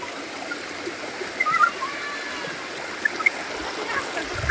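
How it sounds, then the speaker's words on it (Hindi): Water flowing in a stream beside a village road, a steady broadband rush that stays even throughout, with faint chatter and small splashes coming through now and then. "ये पानी कितना सुंदर दिख रहा है, पानी की आवाज भी इतनी सुंदर आ रही है।"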